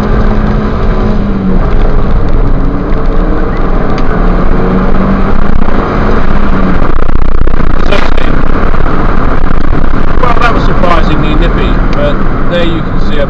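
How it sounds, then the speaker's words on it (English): A Ford Fiesta Titanium, front-wheel drive, accelerating hard from standstill on a wet road: loud, continuous engine drone rising through the gears with road and tyre noise, heard from inside under heavy wind and cabin rumble. "We're going to do a 0 to 60 test now."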